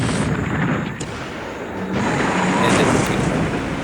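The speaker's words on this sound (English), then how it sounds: "So the submarine used a deck gun," A 14 cm submarine deck gun firing in the War in the Pacific strategy game, heard as a loud, continuous rumbling roar of heavy gunfire that swells again toward the end.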